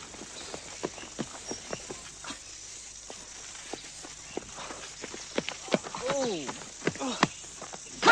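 Hooves clip-clop in quick, uneven beats over quiet background, growing busier toward the end alongside brief animal-like squeaks.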